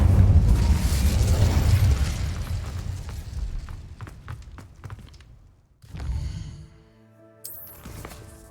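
A fire spell cast in Hogwarts Legacy bursts with a loud booming whoosh up front, a heavy roar that thins out over several seconds before a second, smaller burst and a fading magical shimmer.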